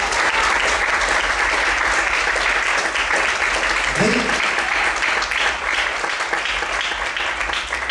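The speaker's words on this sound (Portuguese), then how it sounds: "Você pode aplaudir bem forte esse Jesus" Congregation applauding loudly in a church after a pastor's prayer during a sermon on Proverbs 13, a steady broadband wash of clapping lasting throughout, with a brief spoken word from the preacher midway.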